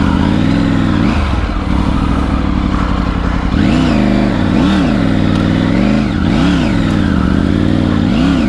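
A Triumph Tiger 900 Rally motorcycle in the sand of the Thar Desert, its engine loud and close, droning steadily and then rising and falling in repeated throttle surges, with no talking.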